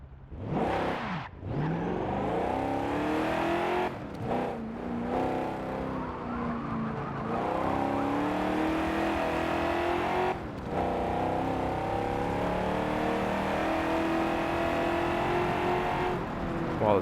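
A Mercedes 6.3 sedan driven on a race track, its engine roaring and revving steadily and loudly through the gears, with brief drops where the driver shifts or lifts off.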